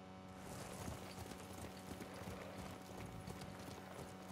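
Horse hooves clip-clop at a steady, repeated trot in the video game Ghost of Tsushima, fairly close, with a low rumble of game ambience underneath and no voices.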